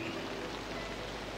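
Steady rain falls as a radio drama sound effect, a faint, continuous soft hiss of drops with no other sounds.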